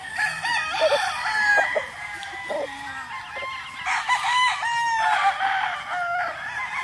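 Battle stag rooster crows several times up close amid clucking fowl, the calls repeating in bursts over steady farmyard background noise.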